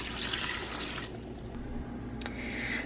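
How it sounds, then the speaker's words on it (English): Two cups of water pour over dry noodles in an Instant Pot, a steady close splashing rush that thins into a lighter trickle with a brief drip near the end. "we are going to go ahead and put our 2 cups of water right on top of the noodles"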